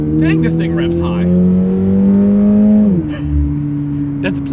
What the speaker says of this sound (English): Dang, this thing revs high.